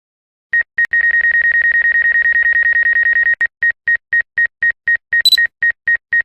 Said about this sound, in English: That beep that you heard is just the notification that you are getting close to an obstacle, your obstacle avoidance notification